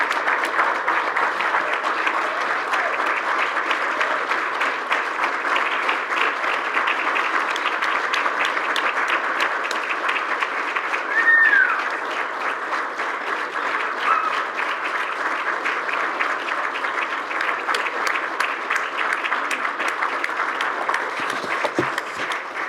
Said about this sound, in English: can we please give Mayor Trinks a hand of applause?